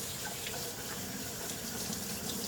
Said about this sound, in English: now we have to wash the pasta